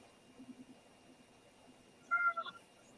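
A domestic cat meows a few times close by in a quiet room, a short burst of two or three calls late in the clip over faint background noise.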